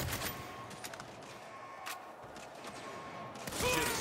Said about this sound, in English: I mean shoot my way out.